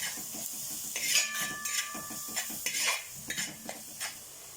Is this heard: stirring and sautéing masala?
yes